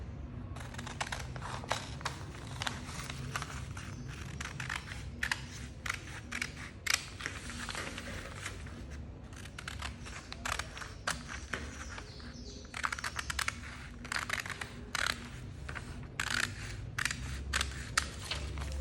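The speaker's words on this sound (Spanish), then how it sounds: "Yo le voy a poner aquí alfileres para que no se me mueva el cuello y poderlo recortar." Scissors cutting out a pinned shirt collar, a long run of close, crisp repeated snips and crunches with short pauses between bursts.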